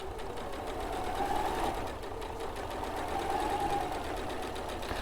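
Sewing machine stitching directly along marked lines on a quilt, a continuous close mechanical whirr with a fast regular needle rhythm swelling slightly in loudness, with no talk over it.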